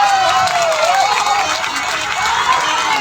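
A large crowd at a village religious gathering in India claps and cheers loudly and steadily, a dense wash of applause with a faint whistle-like tone riding above it.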